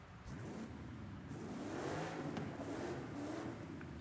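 Supercharged car engine in Forza Horizon 5 revving steadily and loudly, a whining rising tone over a continuous engine roar with no talking.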